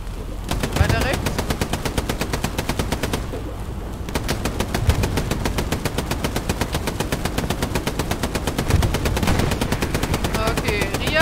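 A tank's onboard machine gun in the Hell Let Loose war game hammers out long, rapid sustained bursts, loud and close, with brief pauses and background battle noise.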